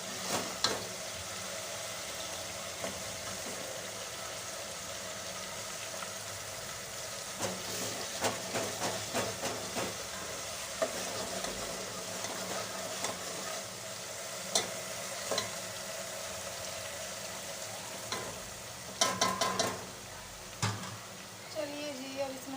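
Masala fries in a pan at home, a soft continuous sizzle with occasional stirring scrapes and clinks, fairly quiet and close.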